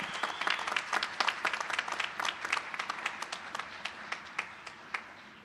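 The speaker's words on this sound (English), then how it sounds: "I think you should give all yourselves a round of applause." Graduates at an in-person spring commencement ceremony clap in a round of applause, a fairly distant, thinning patter of individual claps that gradually tapers off over a few seconds.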